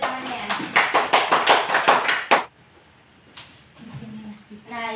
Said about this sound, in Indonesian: Silahkan dari tepuk tangan untuk temannya.